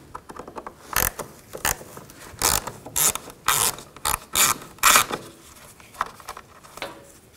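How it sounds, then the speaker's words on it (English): A ratchet fitted with a T20 socket loosens a screw on a 2009–2017 Chevy Traverse radiator fan, producing a series of close, crisp clicking bursts in irregular strokes. "Take this screw out, use a T20 socket."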